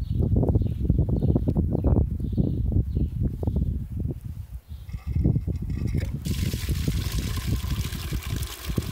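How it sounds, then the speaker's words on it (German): Water beginning to run from a historic village fountain in Berstadt, a steady splashing and trickling stream that stays loud and continuous close by, with a brief lull midway and faint birds in the background. "dass das Wasser an unserem historischen Zingelbrunnen läuft"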